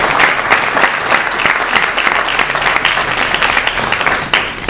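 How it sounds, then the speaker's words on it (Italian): Audience in Pescara applauding a lighting and audio technician at a movement's presentation event: a steady, loud burst of many hands clapping, dense and continuous throughout. "un applauso Antonio."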